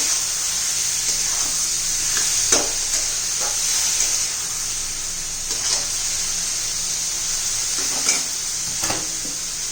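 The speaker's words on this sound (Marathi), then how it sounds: "आता आपण ही गवार घालून घेऊ व्यवस्थित मिक्स करून घेऊया" Cluster beans (gavar) fry in a pan with a steady, close hiss of sizzling oil, broken by periodic spatula scrapes and stirring clicks throughout.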